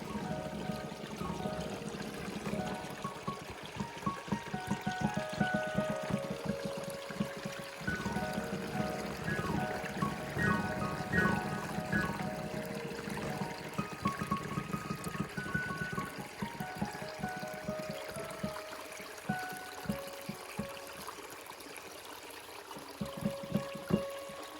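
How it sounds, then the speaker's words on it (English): Water rushes and trickles steadily over rocks in a flowing creek, a continuous close babbling that thins out toward the end. "See if the creek's running."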